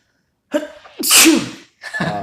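A single loud, sharp sneeze with a short breathy build-up, then a brief pause and a trailing sniff or exhale, close to the listener.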